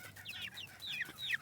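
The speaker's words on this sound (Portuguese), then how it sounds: "A galinha bateu no meu outro pintinho," A hen squawks and clucks in a run of repeated, agitated calls, close and fairly loud, after pecking at a chick, with no talk over it.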